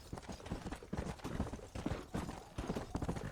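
Horse hooves clip-clop in the Western video game Red Dead Redemption, a steady, close, rhythmic trot of repeated hoofbeats with no talking.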